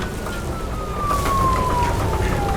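A police car siren wails in the video game Nobody Wants to Die, a single steady falling tone over a loud, busy rumble of background noise.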